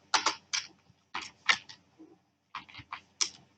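Keystrokes on a computer keyboard while typing HTML code, in short bursts of several quick clicks separated by brief pauses, close and fairly clear with no voice.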